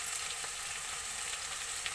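Potatoes for Odisha-style aloo dum fry in a pan, giving a quiet, steady sizzle with no clear stirring strokes and no voices.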